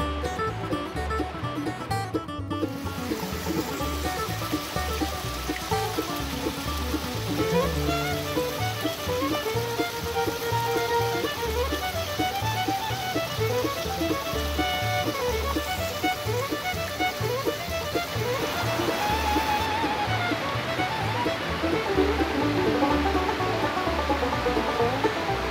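Creek water flows at Lost Creek Falls in White County, Tennessee, a constant broad rushing wash that holds steady throughout, with a layer of tonal sound running over it.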